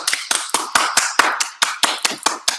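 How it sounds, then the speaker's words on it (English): One person's brisk double-time clapping, about a dozen sharp, close claps in a quick, slightly uneven rhythm, each distinct and loud with silence between. "Here's network marketer's clap right here."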